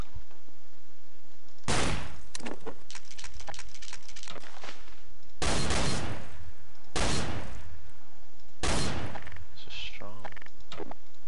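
Gunfire in the video game Garry's Mod, several sharp bursts of shots in separate clusters, loud and close, with gaps of quieter game noise between them.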